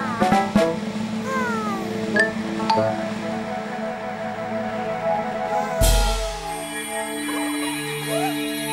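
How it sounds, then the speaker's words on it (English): Several small kittens mew in high, thin cries, scattered calls overlapping, with a sudden bright clink partway through. "Kittens."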